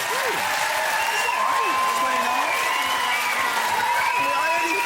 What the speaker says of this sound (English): A round of applause for our losers.